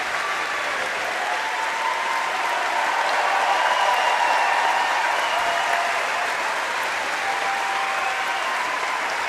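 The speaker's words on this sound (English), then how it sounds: "he too is giving the players a standing ovation" Sustained applause fills an arena as the crowd gives a standing ovation after a Malaysia–Scotland mixed team quarterfinal at the 2014 Commonwealth Games badminton, dense and even throughout, swelling slightly midway.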